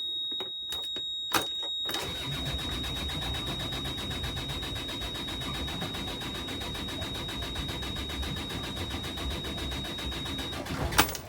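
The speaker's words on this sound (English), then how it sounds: "I'm just going to run the starter to get some oil pressure." A diesel engine's electric starter cranks steadily without glow plugs after months sitting unused, a continuous rhythmic churning that runs loud and close for about nine seconds following a few brief clicks, then cuts off.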